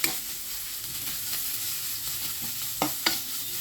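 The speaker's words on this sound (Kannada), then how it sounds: "ಸ್ವಲ್ಪ ಫ್ರೈ ಆಗಬೇಕು." Chicken, carrot and curry leaves sizzle in a pan, a constant close hiss broken by a couple of sharp spatula knocks and scrapes.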